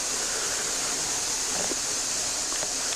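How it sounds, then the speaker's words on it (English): Lost River runs underground through a dark cave at Natural Bridge, Virginia, heard as a steady, even rush of flowing water that stays constant throughout, with no voices. "you can hear the river flowing, but you can't really see it because it's dark"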